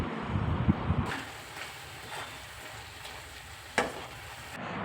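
Chicken roast frying in a pan, stirred with a steady close sizzle and a few scraping knocks at the start and midway, and no one talking.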